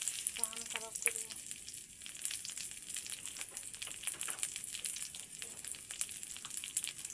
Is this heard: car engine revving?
no